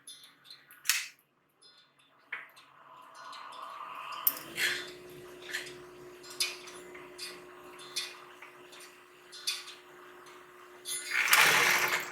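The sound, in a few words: sewing machine sewing a fabric drawstring pouch closed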